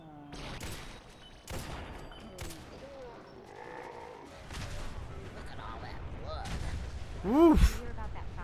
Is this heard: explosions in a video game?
yes